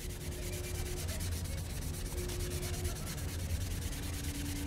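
Steady, continuous abrasive rubbing as a Honda NS250R motorcycle part is sanded between clear coats, an even close-up scratching with a faint rhythmic stroke pattern and no talking.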